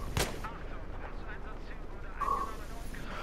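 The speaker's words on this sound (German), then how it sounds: "ich muss noch weiter schießen" A single sharp, loud gunshot at the start in the Battlefield 3 video game, followed by game ambience and a faint buzzing tone, with a voice talking over it.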